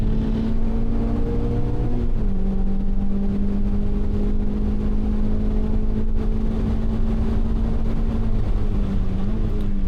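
A Mazda MX-5 ND on track at Degner holds a loud continuous engine drone, then drops into fourth gear with a clear step in pitch about two seconds in, followed by a steady pull.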